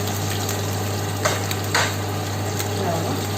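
Curry leaves sizzle and crackle in hot oil in a pan while puli inji curry is being made, with a steady frying hiss and a few sharper pops.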